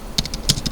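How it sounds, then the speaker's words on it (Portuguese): A few quick keystrokes on a computer keyboard while entering a local server login, light clicks in a short irregular burst, close and clear with no voices. "Então aqui eu estou digitando o servidor"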